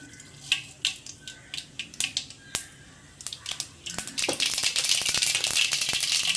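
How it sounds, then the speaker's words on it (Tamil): Mustard seeds crackle in hot oil in a kadai, first as sharp separate pops, then building into a dense, continuous sizzling spatter at close range. "எண்ணெய் காஞ்சோடனே கடுகு போட்டுக்குங்க"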